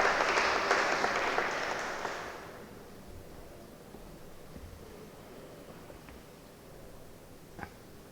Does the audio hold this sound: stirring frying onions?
no